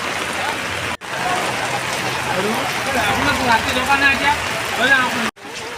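Rain pours steadily over a market in a dense, even hiss, with faint indistinct voices mixed in and brief dropouts near the start and end.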